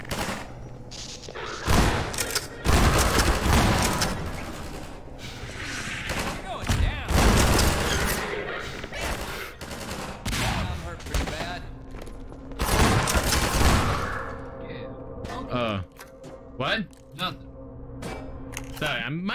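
Turret gunfire in the VR game Half-Life 2 comes as loud bursts of rapid automatic shots with heavy thuds, broken by short pauses, while people talk throughout.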